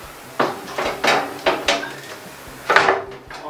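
An oven door opens and a baking dish is handled in a home kitchen, a string of close, hard clanks and knocks of metal and cookware coming at an irregular pace, with no talk.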